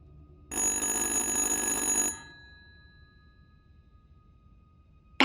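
An old-style telephone bell rings once in the video game Little Hope, a loud continuous metallic trill lasting about a second and a half, then cutting off into a quiet room tone with no talk.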